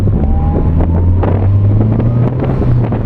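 A loud car engine with a modified air intake drones and rises in pitch past 3,000 RPM, heard from close range with heavy rumble and wind buffeting throughout.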